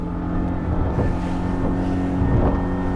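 A Ranieri Cayman 23 Sport Touring RIB's engine roars steadily at high revs, about 6,000 rpm and 42 knots, with wind buffeting and water rushing beneath a constant droning hum.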